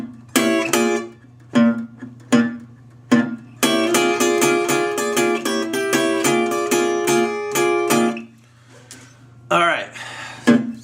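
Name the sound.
blues guitar verse on diminished chords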